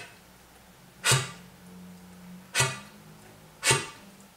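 Flute tongue ram, an extended technique where a burst of air is stopped sharply by the tongue over a fully covered embouchure hole: three separate percussive thuds, close and fairly loud, with a short low pitched resonance, heard alone.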